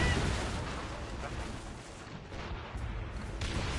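Ship cannons firing in a naval battle in Assassin's Creed Rogue, a dense, rumbling barrage of heavy booms rolling one into another with no clear gaps.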